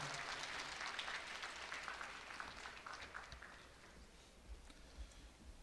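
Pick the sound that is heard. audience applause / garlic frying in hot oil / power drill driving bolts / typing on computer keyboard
audience applause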